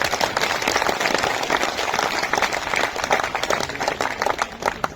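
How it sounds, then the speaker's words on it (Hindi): A large audience at a festival gathering claps with dense, sustained applause, loud and steady throughout without a break. "मैं चाहता हूं आप सभी लोगों के लिए जोरदार ताली होनी चाहिए।"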